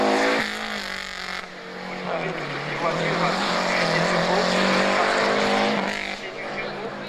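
Rally car at full throttle on a French hill climb, its engine revving hard and shifting through gears in a loud, close, continuous roar with pitch rising and dropping.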